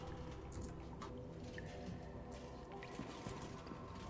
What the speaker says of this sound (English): Kind of mixing in with the water droplet sounds.